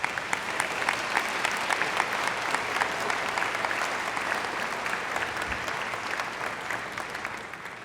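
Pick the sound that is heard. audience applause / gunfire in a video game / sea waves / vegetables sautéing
audience applause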